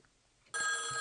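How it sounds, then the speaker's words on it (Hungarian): A quiet room, then a Samsung phone ringtone suddenly starts, loud and bright electronic tones sounding close. "brain rot Samsung csengőhang"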